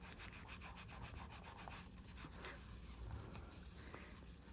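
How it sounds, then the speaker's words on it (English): A piece of space jewelry is rubbed with a polishing cloth, giving quiet, rapid back-and-forth scrubbing strokes in an even rhythm, close up with no voices. "let's see if it's gonna polish up"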